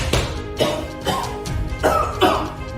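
A person coughs repeatedly, five or six harsh, close coughs in an uneven rhythm, loud and with no talking between them.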